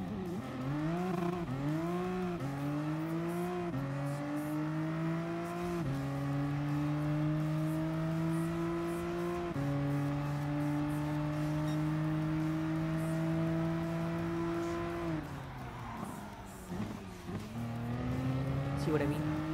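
Mitsubishi XR PHEV Evolution VGT concept car in Gran Turismo Sport, accelerating hard from a standstill with a whining motor tone that climbs through quick gear changes. It sounds loud and close and continuous, with a voice talking over it.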